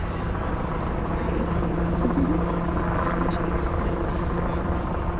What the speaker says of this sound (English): We have a helicopter up here.